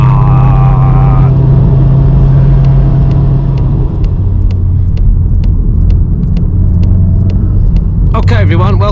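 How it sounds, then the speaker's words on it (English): VW Golf R MK7.5 with 306 hp driving downhill, a steady low engine and road rumble close and continuous under someone talking throughout, with brief voices at the end. "As we come down this hill. So we're in the Golf R."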